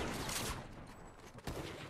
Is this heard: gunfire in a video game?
yes